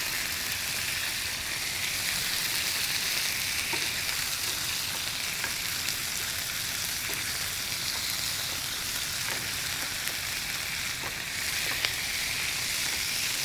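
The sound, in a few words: turkey frying in pan with wine added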